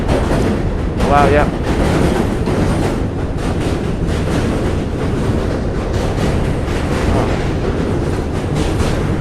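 Trains roll past close to a bridge on a weekday morning, a loud continuous rumble with rhythmic clatter filling the whole stretch, while a brief remark is spoken over it.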